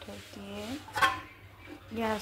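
A cooking pot set down on a lit gas burner gives a single soft metallic clank, while someone talks before and after it.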